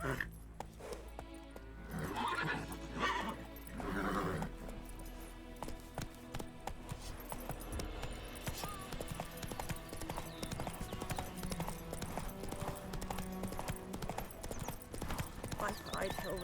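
Roach the horse galloping in The Witcher 3, rapid rhythmic hoofbeats clip-clopping steadily at close range, with occasional neighs and speech over the hooves.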